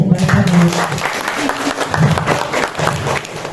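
Applause from an audience at a school event at SDN 1 Sukapura, a steady burst of clapping from a crowd lasting a few seconds, with voices murmuring underneath.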